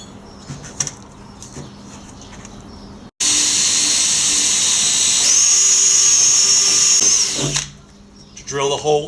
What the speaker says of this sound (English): Drill the hole into it.